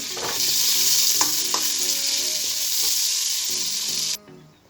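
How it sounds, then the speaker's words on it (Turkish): Barley vermicelli sizzles and toasts in butter in a pan for a soup, a loud steady broadband frying hiss with occasional stirring clatters, cutting off abruptly near the end; no speech. "Evet şehriyemiz kavruldu."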